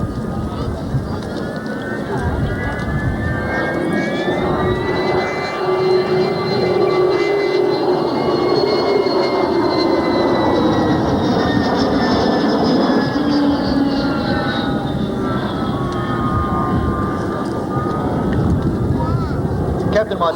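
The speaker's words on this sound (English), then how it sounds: "get a good view now of the 105-foot wingspan of the U-2 Dragon Lady" A U-2 Dragon Lady with a 105-foot wingspan flies past at a 1994 air show, a steady loud jet roar with shifting whine that lasts the whole time, under a public-address announcer's voice and wind noise.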